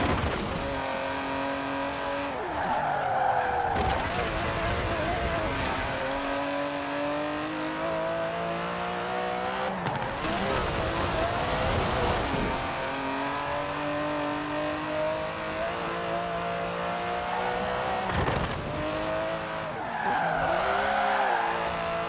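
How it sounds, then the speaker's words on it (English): An Aston Martin DB11 in the racing game Forza Horizon 4 drives hard with a steady engine roar, repeatedly shifting pitch as it accelerates and slows, with long tire squeals and skids during slides, loud throughout. "It's an Aston Martin."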